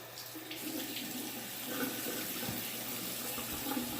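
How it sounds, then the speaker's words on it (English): Tap water runs steadily into a sink while a face is wetted before a shave, a continuous close splashing stream at low volume, with no one talking. "let me go ahead and just kind of wet my face a little bit"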